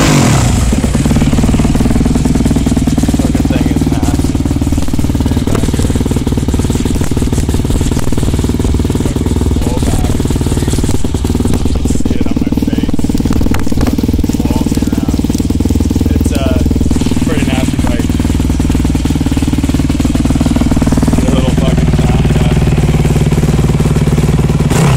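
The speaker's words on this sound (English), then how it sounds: "I'll fire it up, give you a little sound test of it." A Yamaha WR250F dirt bike engine runs loud and close, a rough, continuous idle with uneven throttle blips and rattling clatter throughout.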